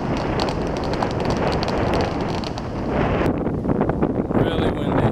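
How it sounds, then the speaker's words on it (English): Strong wind roars and buffets the microphone continuously on a porch, a loud dense rush that eases slightly near the end. "Really windy. Really, really windy."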